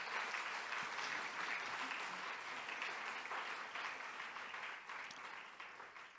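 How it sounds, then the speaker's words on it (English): A large hall audience at a national birthday celebration claps after a performance, a dense, continuous round of applause that gradually tapers off toward the end. "Please give them all another round of applause."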